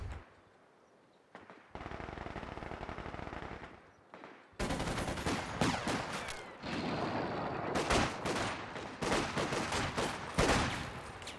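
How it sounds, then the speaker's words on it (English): Bursts of machine gun fire in a World War II real-time strategy match, coming in several sustained rattling volleys with short gaps, loud and dense, mixed with scattered gunshots and battlefield noise. "Machine gun coming down from the south"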